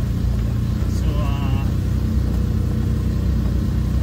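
A car rolling slowly along a winding mountain road in Japan, a steady low engine and road rumble throughout, with someone talking over it.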